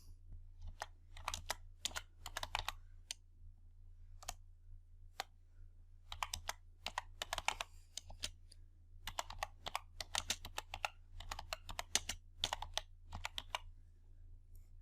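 Typing on a computer keyboard while entering text into an Excel spreadsheet: quiet, close key clicks in irregular bursts separated by short pauses, over a low steady hum.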